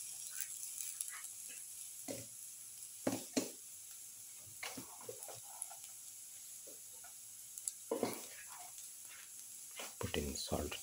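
Ginger sizzling in a hot pan while cooking a garlic spinach potato rice casserole: a steady, quiet frying hiss broken by scattered clicks and stirring scrapes, with a voice speaking intermittently over it.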